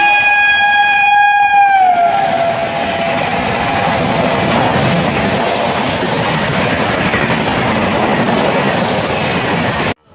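At a rural station on the Howrah–Burdwan chord line, a horn blast gives way to a fast train roaring close by with a loud, sustained rumble and rattle that cuts off abruptly.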